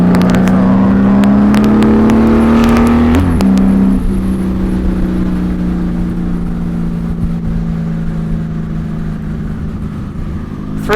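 Steady engine drone of cars at about 90 km/h on a road, with a loud whooshing pass early on and continuous traffic rumble throughout, no talking.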